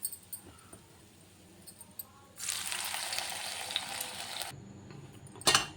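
Battered cauliflower balls for gobi manchurian drop into hot oil and fry with a sudden, steady sizzle lasting a couple of seconds. Quiet kitchen clatter comes before and after.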